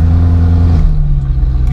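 A straight-piped BMW E93 M3 engine blares very loud and close, with a harsh rising rev that drops in pitch as the car downshifts mid-clip.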